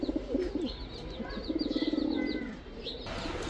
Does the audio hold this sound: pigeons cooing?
yes